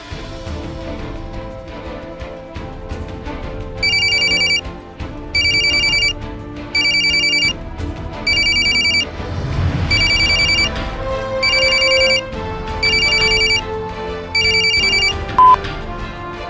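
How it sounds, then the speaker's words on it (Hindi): A mobile phone rings with repeated electronic bursts at even intervals, about nine in all. Dramatic background music plays beneath it. "मोबाइल की घंटी भी बज उठी।"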